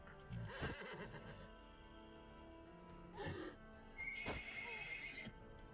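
A horse in the video game Wartales neighs and whinnies several times, with a long whinny at the start and shorter snorting calls later over a quiet game background.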